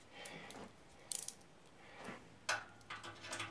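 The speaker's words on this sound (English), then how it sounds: "ratchet wrench" A 1/4-inch socket ratchet wrench fitted with a screw bit works screws on a Suburban RV furnace, giving a few short, quiet ratcheting clicks in separate bursts with pauses between them.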